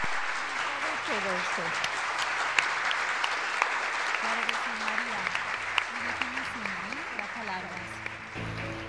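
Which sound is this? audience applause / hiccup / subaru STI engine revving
audience applause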